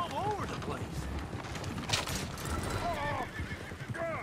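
Several horses whinny and neigh at moderate distance in the video game Red Dead Redemption 2, with hooves clip-clopping underneath and voices talking faintly in the background.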